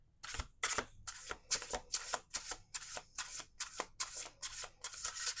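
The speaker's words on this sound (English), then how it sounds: "Last shuffle." Someone shuffles a deck of tarot cards close up and quietly, producing about a dozen quick rhythmic riffling bursts in a row with brief gaps and no talking.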